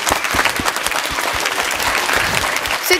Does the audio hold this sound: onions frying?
no